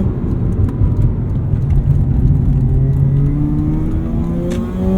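2009 Mazda RX-8 rotary engine climbing steadily through the revs under acceleration, a loud smooth buzzing whine rising in pitch over several seconds, heard from inside the car without talking.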